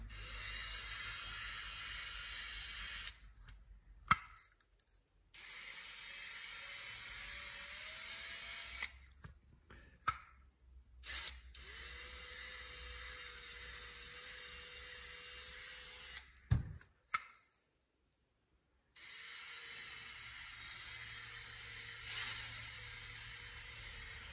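A steady mechanical whir from lapping the valves of a Briggs LO206 kart engine runs in several long stretches broken by brief pauses, with a grinding, scraping texture that gradually evens out toward a smoother hum.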